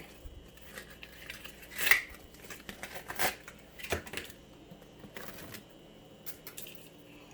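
Sharp tearing and crinkling bursts come from a filter package being pulled apart close by, scattered irregularly over a quiet background.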